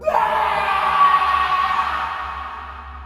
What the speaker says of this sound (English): He screamed in terror.